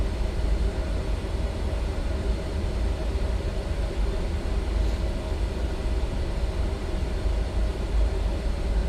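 Jet engines of an Embraer E-Jet airliner roar during takeoff in Microsoft Flight Simulator 2024, a loud, steady, dense rumble that holds constant the whole time with no talk over it.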